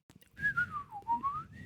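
A person whistles a Zelda tune, a clear, moderately quiet melodic line that glides down and back up over a couple of seconds, alone without talk.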